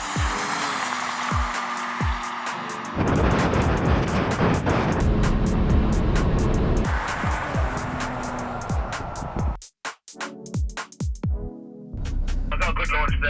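V6 pickup trucks, a Volkswagen Amarok among them, launching off the line in a drag race: engines roar and rev hard, with a brief drop around ten seconds as gears change before the power surges again, and faint voices underneath.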